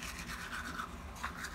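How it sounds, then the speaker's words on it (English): A toothbrush scrubs teeth with a quiet, steady back-and-forth bristle rasp, rhythmic and close but low in level, with no voices. "Every time I brush my teeth..."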